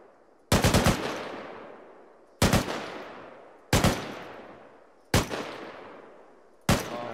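Gunfire in the Arma 3 military simulation game, five sharp loud bursts of rapid shots spaced a second or so apart, each trailing off in a long echoing decay, with no talking.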